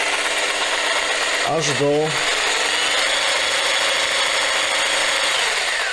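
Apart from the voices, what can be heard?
Bosch GST 160 BCE jigsaw running at lowest speed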